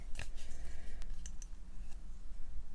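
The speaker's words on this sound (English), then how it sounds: "So I'm cutting my card" Scissors snipping through card stock up close, a few crisp cuts near the start and then lighter intermittent snips against a low steady hum.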